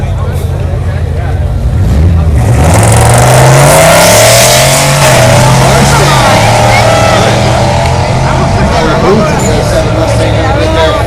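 A Ford Mustang and a Ford Lightning pickup launch side by side in a drag race, engines and tires roaring loudly as they accelerate away, with a commentator talking over the noise and a crowd murmuring behind.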